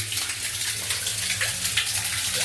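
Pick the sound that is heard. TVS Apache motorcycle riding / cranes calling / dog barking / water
water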